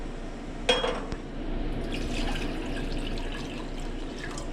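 Water running into a cooking pot, a sharp clink at the start, then a steady splashing fill that settles into an even pour, fairly close.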